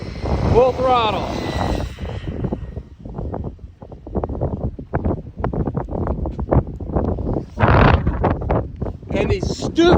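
A $150 DeeRC 1217 budget RC truck runs at full throttle outdoors on a very windy day, its motor whining amid loud, gusty wind rumble. A voice is heard briefly at the start.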